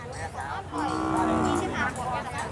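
A water buffalo at the Ban Chiang Wang livestock market in Yasothon, Thailand, gives a long, loud, close moo through the middle, with other bellows and some people talking nearby.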